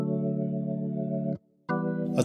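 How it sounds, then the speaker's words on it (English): A jazz organ preset with a darker tone holds a sustained chord, stops for a short gap, then resumes, close and steady with no talking. "Now the jazz organ sounds like this."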